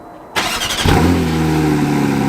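Porsche GT4 RS rolling slowly at about 10 to 15 mph to clean its brake rotors, a sudden engine roar that settles into a steady, loud, close drone with a low hum, no voices.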